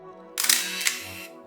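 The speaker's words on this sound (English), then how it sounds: "I pressed the shutter. The camera fired, advancing the imaginary film" A Canon T90 film camera fires its shutter, followed by the whirring motorized film advance. A brief sharp mechanical burst runs about a second, close and clear, over a faint electronic hum.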